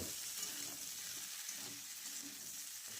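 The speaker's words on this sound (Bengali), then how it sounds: "সজনে ডাঁটা দিয়ে নেড়ে ছেড়ে নেব সব সবজি একসাথে মাখিয়ে নিচ্ছি" Drumsticks, eggplant, pointed gourd and tomato get tossed together in a pan of hot oil, giving a soft, steady sizzle with faint stirring scrapes, quiet and close with no talking.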